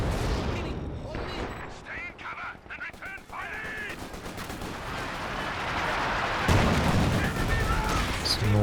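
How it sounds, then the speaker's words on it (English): Howitzer and ISG artillery fire in Company of Heroes 2, with repeated booming shots and crackling gunfire in a busy battle mix, under steady talk from a commentator. "Some more base howitzer fire coming in"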